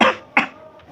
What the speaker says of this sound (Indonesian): batuk ini